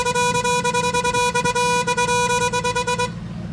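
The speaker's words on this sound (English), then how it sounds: "I fucking hate that horn." Truck horn honking in a rapid stuttering series of loud, tonal blasts for about three seconds, then cutting off to a quieter rumble.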